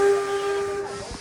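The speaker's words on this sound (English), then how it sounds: "give us the sound of a single whistle that lets us know it's safe to come off the train" A single steady train whistle blows loud and clear, with a hissing steam background, then cuts off just before the end.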